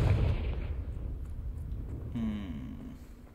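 Confringo explosion spell cast in Hogwarts Legacy: a loud, deep booming blast at the start that rumbles off, followed by a short whooshing magical swirl, with no speech.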